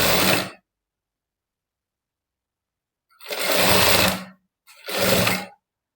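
A sewing machine runs top stitching on a blouse, with one short burst, a long pause, then two longer whirring runs close by, with no talk.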